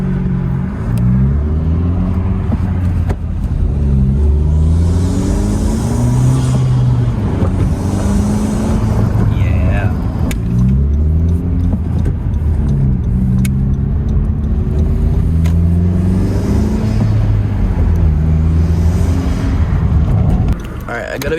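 A modified 10th gen Honda Civic's engine and exhaust, a close, steady droning rumble with rising and falling revs heard from inside the car with the window down, while someone talks over it.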